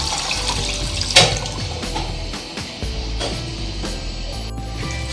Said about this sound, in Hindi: ये तकरीबन 2 लीटर में पानी इसमें डाल रही हूँ।